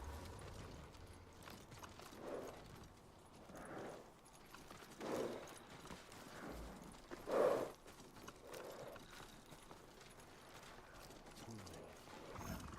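Faint, evenly spaced hoof clops from a thin brown horse plodding along in the video game Ghost of Tsushima, under a low background hum, with one slightly louder step near the middle.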